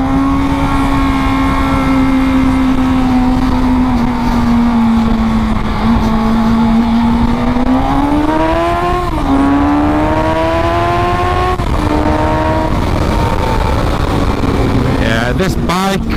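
A Suzuki GSX-S750 motorcycle engine revving hard on a commute road, its steady high whine climbing through the gears with shifts, heard loud and close with a rider talking over it.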